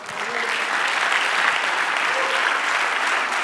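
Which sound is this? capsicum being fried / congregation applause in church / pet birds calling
congregation applause in church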